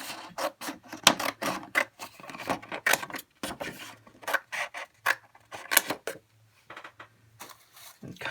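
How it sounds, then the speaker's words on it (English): Repeated crisp snipping and rasping cuts of big scissors through stiff card for a thank-you card, close up, in short irregular bursts with brief pauses between. "I'm just going to get some big scissors here"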